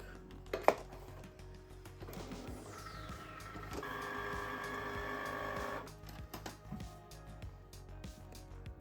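A Cricut cutting machine cuts cardstock on a mat, a faint mechanical whir with carriage movements and a steadier buzzing stretch in the middle, quiet and close.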